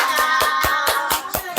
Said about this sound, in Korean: 오늘 하나님 감사합니다 외치면서 박수로 영광 올려드리겠습니다